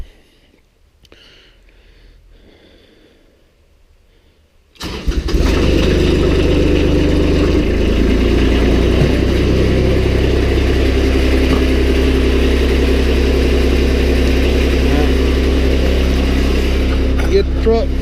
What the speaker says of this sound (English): let's get the wood processor started and let it be warming up, because it takes a little while to get the hydraulics warm